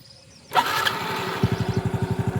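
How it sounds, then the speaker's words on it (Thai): A car engine cranks and catches after a quiet start, then settles into a close, loud, rhythmic idle with steady pulsing beats. "เดี๋ยวสตาร์ทรถรอเลย"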